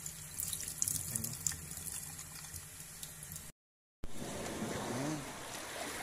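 Tap water runs and splashes over a freshly caught Spanish mackerel, a close steady gush that cuts out briefly and then resumes with a harsher spray.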